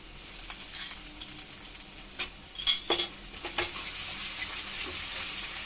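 Ginger-garlic paste and ground coriander-cumin paste hitting a hot pan: a steady sizzle with scattered sharp clinks and scrapes of a spoon stirring against the pan, a cluster of louder scrapes in the middle.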